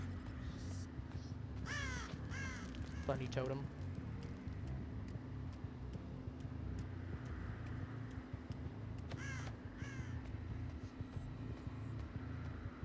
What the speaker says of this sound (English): I can hear cues. I hear crows.